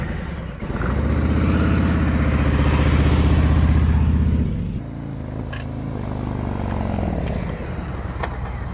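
A motorcycle ridden at slow speed on a practice course, its engine droning loud and close for a few seconds before easing off as it brakes, then idling steadily, with no talking.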